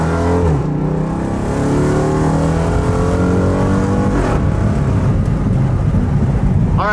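Jeep SRT8 with a carbon fiber Hellcat hood driving fast, its engine roaring loud and close with rising revs and steady road rush throughout, no voices.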